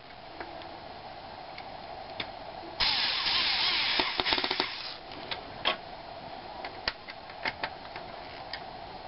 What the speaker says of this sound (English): I'm showing you guys how to use the screwdriver because you don't want to over tighten this